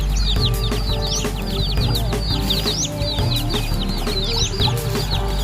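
Red junglefowl chicks peep and cheep in quick, repeated bursts over a low rumbling background, close and fairly loud.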